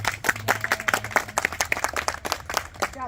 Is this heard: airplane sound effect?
no